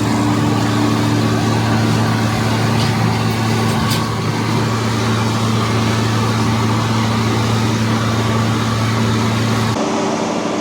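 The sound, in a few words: tractor PTO running a big hydraulic pump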